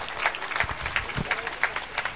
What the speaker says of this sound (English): So let us clap for ourselves louder than this. We deserve a bigger clap